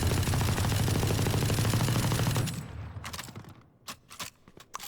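Ares machine gun in Valorant firing a sustained rapid burst, loud and dense for about two and a half seconds, then breaking into a few separate shots and clicks, no talking.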